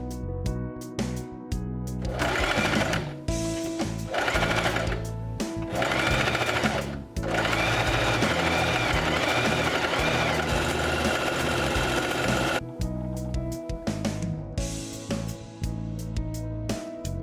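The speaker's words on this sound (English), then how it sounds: "Clip it all in place and sew it close to the edge." A sewing machine stitching a folded fabric cuff close to the edge, running in loud, close bursts of rapid mechanical whirring separated by short pauses.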